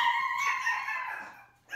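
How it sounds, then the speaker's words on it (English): Two small chihuahuas indoors let out a sustained, high whining howl with harmonic barks blended in, close and fairly loud, fading out near the end before a short yelp. "No barking, please."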